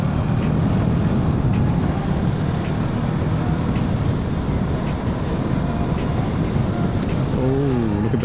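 A brand-new Mahindra XUV SUV passes by in steady traffic on a road, heard from a moving motorcycle, with continuous engine and road noise throughout and no clear separate pass-by peak.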